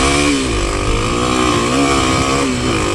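Kawasaki KLX 300 dirt bike engine revving hard off-road in third gear, a loud, close, buzzing single-cylinder drone with rising and wavering pitch, heard alone.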